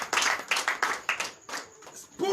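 A church congregation at a night deliverance service in Comè, Benin claps in acclamation, a burst of about a dozen quick, loud, close claps in uneven rhythm that trails off near the end.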